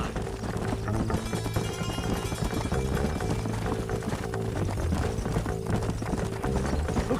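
Horse hooves clip-clop steadily in Red Dead Redemption, a continuous rhythmic trot up close, set against a dense backdrop of game music and ambience, with no talking.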